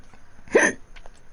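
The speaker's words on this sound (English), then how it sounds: "Hiccups." A single loud hiccup, close and sudden, standing out briefly against a quiet background.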